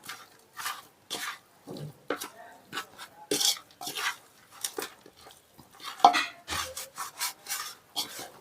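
Chicken biryani marinade ingredients, Hyderabadi style, mixed together in a bowl, giving a steady run of close, rhythmic rubbing and scraping strokes with occasional light knocks. No speech.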